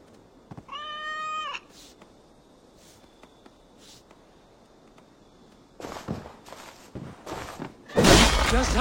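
Cat meowing once in a clear, drawn-out harmonic call up close, followed by quiet room tone, scattered thuds and rustling, then a loud burst of crashing noise at the end.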